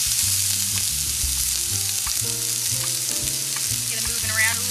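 Shallots frying in a hot pan on a stovetop, a steady loud sizzle with some stirring and scraping, no voices.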